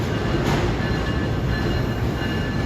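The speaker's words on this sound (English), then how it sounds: "Some M9s coming out of West Side Yard." An M9 commuter train rolls out of West Side Yard near Penn Station, a loud, steady, close rumble of wheels and cars with a brief high squeal near the start.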